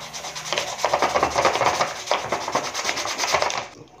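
Steady rasping strokes of sandpaper rubbing against a hard surface, rhythmic and close, ending abruptly.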